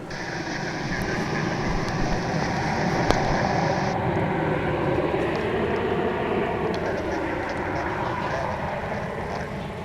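An American Airlines Boeing 737-800 passes near a runway at Dallas/Fort Worth International Airport, its broad jet engine roar holding steady and loud across the whole stretch with a gentle rise and fall in pitch.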